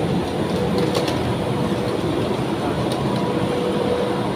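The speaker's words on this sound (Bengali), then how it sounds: "এই ট্রেনে উঠলাম।" Steady rumble and hiss of a metro train in a Shenzhen station, a continuous loud wash of rail noise with faint clicks, and no clear voices.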